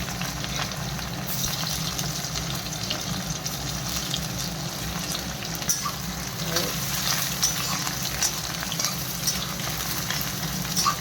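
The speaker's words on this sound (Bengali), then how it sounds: "পেঁয়াজটা একটু ভাজা ভাজা হোক," Onions sizzling in hot oil in a pan in a home kitchen, a steady, even frying hiss that runs through the whole stretch with a low background hum and no talking.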